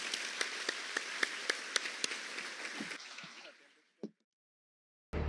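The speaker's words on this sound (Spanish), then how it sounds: "un aplauso para los alcaldes" Conference audience applauding the mayors at the close of a panel at Colombia's 19th National Infrastructure Congress; steady clapping with distinct sharp claps that fades out after about three seconds, a single later clap, then silence and a sudden noise at the end.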